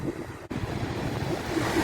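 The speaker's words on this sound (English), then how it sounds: "The wind and the waves." Strong wind buffets the microphone over the steady roar of ocean surf at Étretat beach in Normandy, loud and continuous with a brief dropout near the start, no voices.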